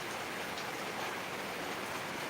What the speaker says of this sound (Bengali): এই মুহূর্তে প্রচুর ঝড় বৃষ্টি আরম্ভ হয়েছে